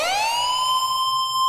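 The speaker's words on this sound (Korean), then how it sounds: "여기서는 요 사이렌 소리." Synthesized siren in an electronic dance track, a single bright tone rising in pitch and then holding steady, loud and alone.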